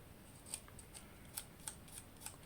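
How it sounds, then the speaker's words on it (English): Scissors snip through craft material for a candle jar, a series of small, sharp, quiet cuts spaced irregularly with no voices. "I actually will have to cut it here"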